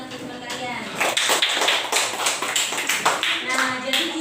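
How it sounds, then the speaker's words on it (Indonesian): Schoolchildren in a multigrade classroom clap for a classmate in a run of sharp, close claps that fall into an uneven, near-rhythmic beat, with a quiet stretch at the start. "Tepuk tangan untuk teman kalian."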